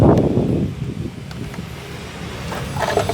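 Wind blowing outdoors, a steady broadband rushing and buffeting against the microphone for about three seconds, close and moderately loud, with a faint rustle and no talking.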